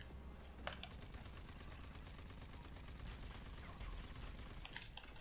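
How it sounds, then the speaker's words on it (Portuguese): Gunfire and explosions in the video game Rage 2, a dense continuous crackle of rapid shots and blasts at moderate, fairly even loudness, no talking. "Ó, explosões, estão vendo?"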